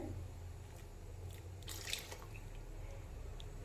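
Water trickles and drips into a cooking pot of sambar, with a brief splashy pour in the middle over a steady low background hum.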